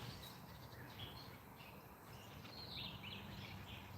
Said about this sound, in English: There's a bunch of birds nested in the pear tree, but you can hear them singing